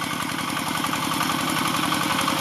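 A walk-behind tractor's engine chugs steadily while ploughing a muddy rice field, a loud, close, continuous pulsing thrum with a fast, even rhythm and no voices.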